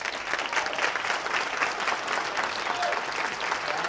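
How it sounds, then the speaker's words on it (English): A conference audience at a developer event applauds after a talk, with sustained dense clapping from a crowd at an even level throughout. "Please give it all a round of applause."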